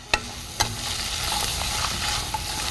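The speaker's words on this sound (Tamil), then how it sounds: "இப்போ ஓரளவுக்கு வதங்கியிருக்கு, பட் இன்னும் நல்லா வதங்கணும்." Pallipalayam chicken sautéing in a pan, a loud, steady close sizzle opened by two sharp spatula knocks against the pan, with a lighter tap near the end.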